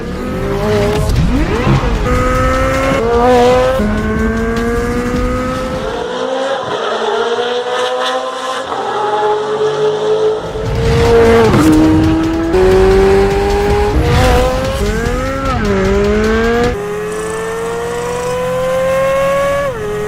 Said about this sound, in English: it sounds just like the BMW M3 GTR P60 engine